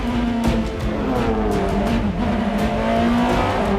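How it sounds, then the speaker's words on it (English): A stripped, gutted 2002 BMW M3 E46 race car drives past close and loud, its engine note steady and strong with a brief tire squeal along the way. "Mario races a 2002 BMW M3 E46."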